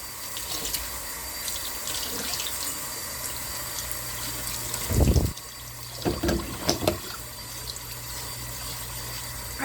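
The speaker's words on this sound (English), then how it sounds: "I'm just gonna rinse the rice" Rice rinsed under a running kitchen tap, a steady stream of water with a few louder splashing bursts as the grains are swirled and stirred.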